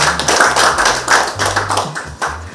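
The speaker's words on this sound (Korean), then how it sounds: "박수로 맞이해 주십니다" Applause breaks out from an audience at a forum lecture in Mapo as a party supreme council member is welcomed, with broadband clapping over low droning tones, steady and fairly loud throughout.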